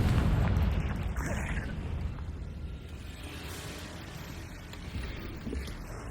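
A Confringo fire spell explodes in Hogwarts Legacy, a heavy booming blast at the start that fades into a long rumbling roar and crackle over about six seconds.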